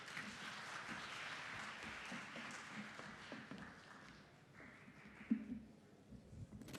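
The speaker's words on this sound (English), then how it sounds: "Let's give him a round of applause." A seated crowd at an anti-corruption expo claps steadily for an assistant pastor called to the podium, a moderate, continuous round of applause that thins out toward the end, with a brief thump near the close.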